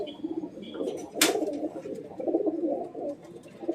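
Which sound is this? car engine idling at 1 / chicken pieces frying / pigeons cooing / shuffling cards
pigeons cooing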